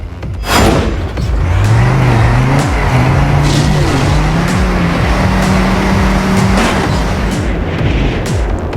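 Racing car in the video game Trackmania Canyon accelerating hard, the engine tone climbing steadily through the gears, loud and continuous with game background noise.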